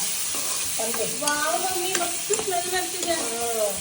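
Bangde fish frying in a pan for a Karwar-style fish fry: a steady, close oily sizzle with scraping and stirring from a utensil, plus a few squeaky, tonal scrapes against the pan.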